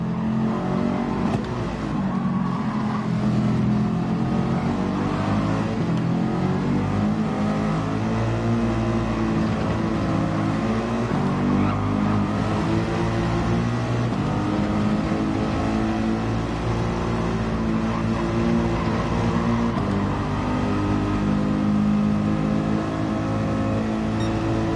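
GT3 race car engines in a racing video game, a steady loud drone of several cars running close together, engine pitch rising and falling slightly through a pack battle with no talk.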